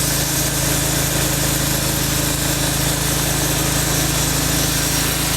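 The motor of an Oscar 52 portable sawmill runs loud and steady while cutting a log, a continuous droning whine with no breaks or voices.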